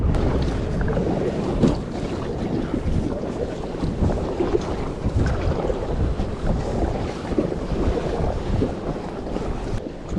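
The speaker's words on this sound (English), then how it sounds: "Big waves." Big sea waves surge around kayaks off the Darién Gap coast, a loud churning wash of water and heavy wind buffeting the microphone, continuous throughout.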